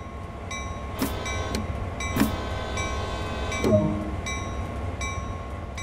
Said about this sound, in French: Donnez 2 coups courts d'avertisseur sonore pour prévenir les personnes aux alentours.